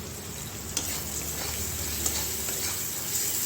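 Spices sizzling and frying in a pan for a rohu fish curry, a steady loud hiss with occasional sharp crackles and light stirring scrapes, no voices.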